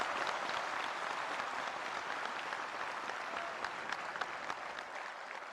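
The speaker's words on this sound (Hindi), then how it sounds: "आइए सब मिलकर एक बार करतल ध्वनि में अपने उद्गार पिरोकर जोरदार अभिनंदन करें माननीय प्रधानमंत्री जी का" An audience applauds warmly to welcome India's Prime Minister at a World Food India event, a steady dense clapping from a large crowd that holds throughout without talk.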